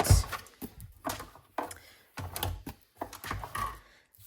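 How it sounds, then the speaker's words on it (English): A die-cut and emboss machine cranks paper through for crafting, producing a series of close, uneven clicking and grinding bursts separated by brief pauses, no talking. "let's bring over our cut and emboss machine and get all of these things"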